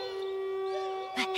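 A person imitates a wolf howl with one sustained, wavering, tonal note that sounds more like a dog than a wolf, followed by a brief breathy noise at the end.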